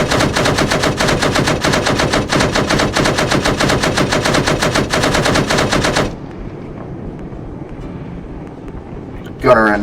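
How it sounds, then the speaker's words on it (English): Rapid 30mm cannon fire from an Apache helicopter in a military shooter game, a loud continuous rattling burst that cuts off abruptly, leaving a low rumble and faint distant noise. "I just got showered in 30mm shells from the Apache"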